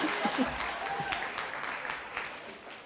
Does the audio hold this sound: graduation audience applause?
yes